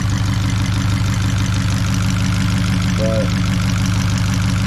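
Fiat 500 Abarth engine fitted with a new big turbo and cam, idling while still cold on a cold day, a steady low rumbling drone with a pulsing beat throughout and a brief voice over it.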